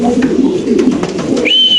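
Pigeons of a Spanish breed cooing at a pigeon farm, a close, loud run of low throaty coos that ends with a short high whistle-like tone.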